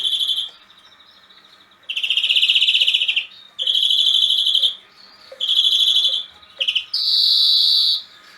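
A greenfinch sings in clear, bright phrases, four or five bursts of high chirping trills separated by short pauses, close and loud with no talking.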